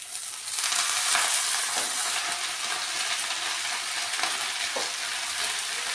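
Washed drumstick (shevga) leaves sautéed in a pan: a loud, dense sizzle begins abruptly and holds steady, with faint stirring scrapes underneath.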